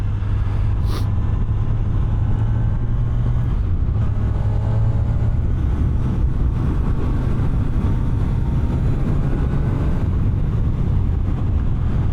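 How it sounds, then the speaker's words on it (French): A Kawasaki Z1100 SE motorcycle being ridden on a damp, gravelly road, its airbox intake giving a loud, steady low drone with engine tone shifting under constant wind rush throughout. "Vous entendez ce bruit de la boîte à air."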